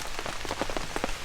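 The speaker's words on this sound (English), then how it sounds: "It's quite loud with the noise of the rain on the top" Rain drumming on the top of a tent, a dense, steady patter of drops close overhead, alone without any voices.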